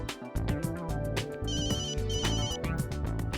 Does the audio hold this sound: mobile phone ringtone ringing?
yes